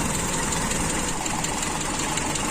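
A cold motorcycle engine fitted with an FMT carburetor idles steadily at low revs, a continuous close, even rumble with no talk over it.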